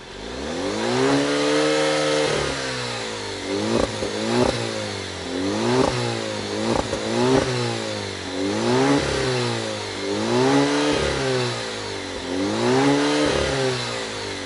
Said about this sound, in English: I'm gonna get in and I'm gonna rev it up, and we'll see how it sounds on camera.